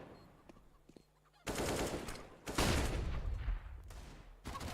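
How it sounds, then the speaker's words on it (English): AK rifle fire in a Counter-Strike: Global Offensive esports match, sudden loud sustained automatic bursts crackling after a quiet start, with overlapping shots and in-game noise, no talk audible. "and Bit, a couple of shots potentially could win this out with the AK"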